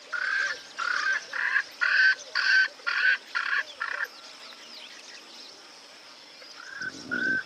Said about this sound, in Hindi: स्वेनसन्स फ्रैंकलिन। छोटे से इस पक्षी की आवाज बहुत तेज है।